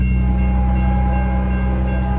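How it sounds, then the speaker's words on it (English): A Norfolk Southern freight train rolls past on the railroad, a loud, steady rumble and rail drone that fills the whole stretch without a break and stays close throughout. "we got another train coming."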